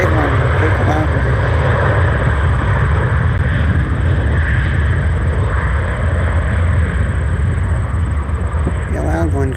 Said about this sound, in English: loud one because it's a big exec jet